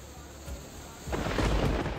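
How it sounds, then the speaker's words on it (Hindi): Thunder rumbles in over the steady hiss of torrential rain during a downpour in Madhya Pradesh, with the low roll building midway and holding loud to the end. "मध्य प्रदेश में मूसलाधार बारिश हो रही है।"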